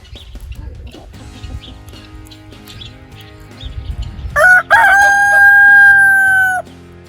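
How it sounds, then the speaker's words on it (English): A rooster crows loudly and close by, one long drawn-out call near the end that follows quieter farmyard chicken sounds and clucking on a homestead. "Unfortunately, most of them were roosters, like Blue."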